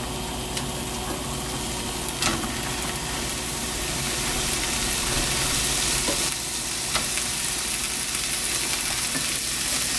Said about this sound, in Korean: 애호박 볶을게요.